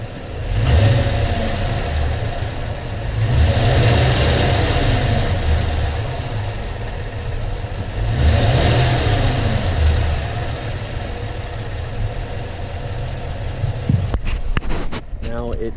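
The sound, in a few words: 2021 Chevrolet Silverado Z71 engine revving, lifter noise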